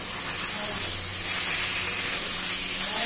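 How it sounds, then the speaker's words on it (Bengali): Boiled water hits a hot pan of amra (hog plum) chutney with a steady, bright sizzling hiss that holds close and even throughout, with a faint stir partway through. "এবার আমরা সিদ্ধ করা জল দিয়ে দিচ্ছি।"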